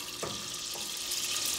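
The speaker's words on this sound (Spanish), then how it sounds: "Vamos a sofreír esos cantitos de jamón" Small pieces of ham sautéing in a pan, a steady close sizzle with faint stirring scrapes over a continuous frying hiss.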